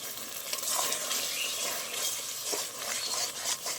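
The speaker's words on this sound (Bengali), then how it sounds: "এবার সবগুলো ভালো করে নেড়ে একটু কষিয়ে নেব।" Spice masala with yogurt, salt and a little sugar stirred and sautéed in a pan for an egg curry, giving a continuous close hiss of frying with spoon scrapes running throughout.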